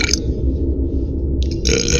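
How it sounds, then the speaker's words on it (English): Loud, long belching burps from a man playing Starfield, a drawn-out rumbling burp carrying through most of the two seconds, close to the microphone. "Excuse the burps."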